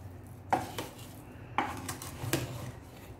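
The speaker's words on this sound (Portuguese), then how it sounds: "Agora eu vou dar uma misturadinha aqui" Stirring fig preserve in syrup in an electric pot: a few sharp clinks and scrapes of a utensil against metal, separated by pauses, with a low background hum.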